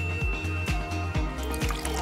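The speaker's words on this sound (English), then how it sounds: "I'll just pour the soda into the hot water bottle." Soda glugs as it is poured into a hot water bottle, a close, rhythmic series of gurgling, squishy pulses repeating about every half second, with music playing behind it.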